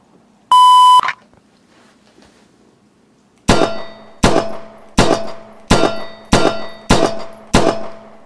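A steady electronic start beep in the Practisim VR competition shooting game, one loud tone lasting about half a second, followed after a pause by seven evenly spaced, ringing shots on metal poppers.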